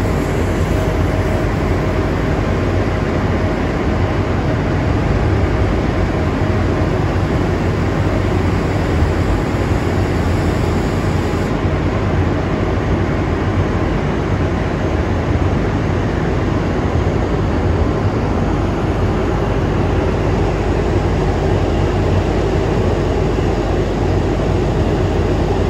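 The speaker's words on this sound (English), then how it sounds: "I also managed to catch this Trans-Pennine Express Class 397 Nova 2 departing to some far and distant land." Trans-Pennine Express Class 397 Nova 2 electric train departing a station, a continuous loud rumbling roar with steady rail and motor noise throughout, no voices.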